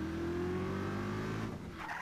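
Car driving in the open-world action game Just Cause 3, a steady engine drone with strong low harmonic bands and tire noise, continuous and fairly loud, shifting and thinning near the end.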